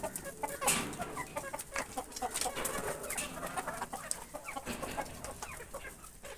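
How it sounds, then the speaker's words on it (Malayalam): A small flock of hens clucks inside a backyard coop, with scattered close-up clucks, cackles and rustling that continue steadily and are heard alone without talk. "ഇതാണ് നമ്മുടെ കോഴികൾ."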